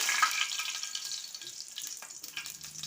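Whole cumin seeds sizzle in hot oil for a tempering, a steady crackling hiss with small pops, close and moderately loud, with no voices.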